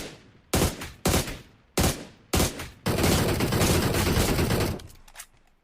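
Gunfire in the PUBG video game while knocking and finishing enemies: four sharp single shots spaced roughly half a second apart, then a sustained burst of rapid automatic fire lasting about two seconds, loud and close.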